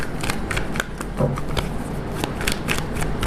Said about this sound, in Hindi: एक ही शफल करेंगे, जो कार्ड्स आने होंगे आ जाएंगे